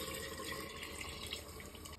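Leftover mutton trotter stock is poured into a cooking pot of Lucknowi siri paya, making a steady, close splashing pour of liquid that runs continuously and fairly softly with no one talking.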